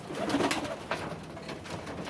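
Pigeons coo softly nearby at feeding time on a freezing evening, a few low throaty calls repeating over a faint background hum, with no voices.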